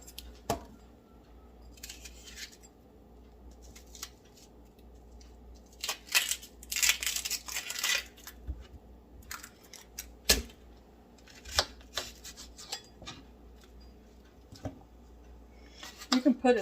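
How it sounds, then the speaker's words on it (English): A knife chopping an onion for a cheesy cream of asparagus and potato soup, with sharp irregular cuts on a board clustering into quick bursts and separated by quiet pauses. "Go ahead and cut my onion up"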